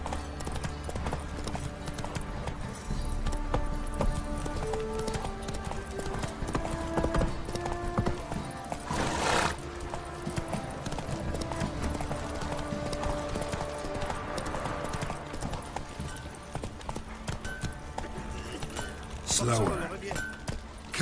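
Roach the horse galloping in The Witcher 3, rhythmic clip-clop hoofbeats running continuously and fairly close, mixed with game sounds, a brief whinny-like burst, and a voice talking over it.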